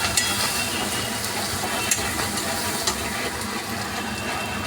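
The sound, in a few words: spice paste frying: coriander, cumin, onion, garlic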